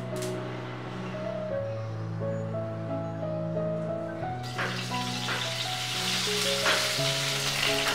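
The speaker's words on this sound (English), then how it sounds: "Frying the prawns now." Prawns frying in a pan for an iftar dinner, a soft sizzle that swells into a louder, crackling hiss halfway through, heard beneath steady background music.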